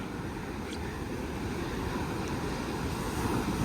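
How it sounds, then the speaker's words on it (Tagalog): Ocean waves and sea breeze on a Philippine coast, a steady, soft wash of surf and wind rumble, continuous and fairly faint with no talk. "Sarap ng simoy ng dagat."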